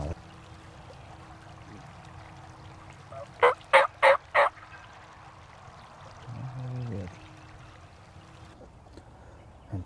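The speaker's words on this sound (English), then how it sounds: "And turkeys are coming in from right behind us." Wild turkeys gobble from a field in a rapid run of four loud, fairly near calls, followed by a lower rumbling sound. A quiet outdoor background lies beneath.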